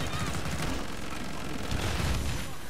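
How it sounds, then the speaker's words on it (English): Rocket-firing machine gun in Killing Floor 2, a dense stream of rapid gunfire with heavy booming blasts layered underneath, loud and continuous throughout the short burst of game combat. "now I have a machine gun"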